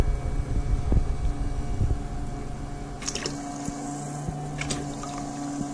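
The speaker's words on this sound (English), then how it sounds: "I'm gonna just block the pump, and now the pressure increases." A coolant pump in a liquid-cooled lithium-ion battery cooling system runs with a faint, steady hum and a thin whine under it, broken by a few brief clicks and hisses.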